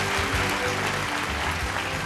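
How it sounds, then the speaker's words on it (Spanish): Sustained applause from a gala audience at an awards ceremony fills the room, a steady dense wash of clapping at moderate level with no voices over it. "El aplauso enorme para Santos."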